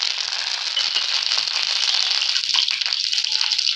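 Curry leaves, cumin and mustard seeds hit hot oil in a pan while cooking a pigeon pea ghugri vegetable dish, giving a steady, close crackling sizzle with scattered pops throughout, no talking.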